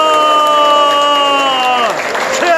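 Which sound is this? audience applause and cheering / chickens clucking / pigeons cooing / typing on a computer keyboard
audience applause and cheering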